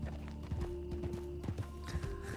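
Horse hooves clip-clopping steadily at a walk, close and fairly loud over low background rumble, with a faint voice briefly audible.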